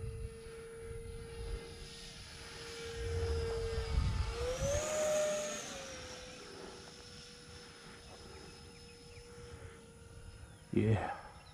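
An E-flite F-15 Strike Eagle RC electric ducted-fan jet on its maiden flight on a 4S 2200 battery at about three-quarter throttle gives a steady whine that swells as it passes near, then fades, with a brief bump near the end.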